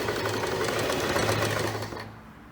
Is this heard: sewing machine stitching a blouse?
yes